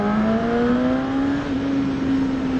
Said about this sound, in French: C'est rare d'avoir un 4 cylindres d'origine qui chante aussi bien.